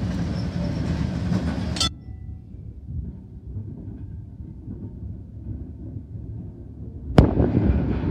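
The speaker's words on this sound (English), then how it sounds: "here we have a tram about to arrive" Vintage tram, fleet number 111, arriving at the Sydney Tramway Museum, a loud rumble that drops abruptly to a quieter low rolling sound, then a sharp bang and the loud rumble returns.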